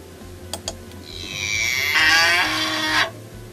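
A cow gives one long, loud moo lasting a couple of seconds, preceded by two short clicks and heard over a steady low background hum.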